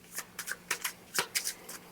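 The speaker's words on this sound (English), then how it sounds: "you basically are going to shuffle your hand like this" Board game cards from First In Flight shuffled by hand in a series of quick papery riffling bursts, about eight short flicks in an irregular rhythm, close and fairly quiet with no talking.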